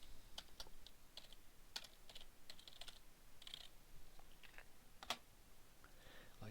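Keyboard typing a virtual machine name in VirtualBox, heard as faint, close, irregular key taps and clicks over quiet background noise.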